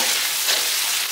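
Garlic, ginger, scallion, hotpot base and bean paste fry in a generous amount of hot oil, giving a steady, loud, close sizzle over one brief burst.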